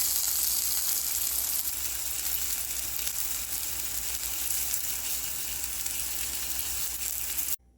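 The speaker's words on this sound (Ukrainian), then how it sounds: "Обсмажую кабачки на сильному вогні на майже сухій сковорідці." Steady, loud sizzling of zucchini frying over high heat in a nearly dry pan, continuous hissing that cuts off abruptly near the end.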